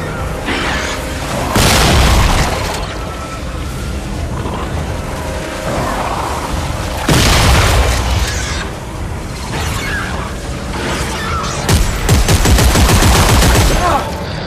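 A shotgun in Dead Space 3 booms in about three loud, widely spaced blasts, each followed by mechanical clatter and rumbling echoes.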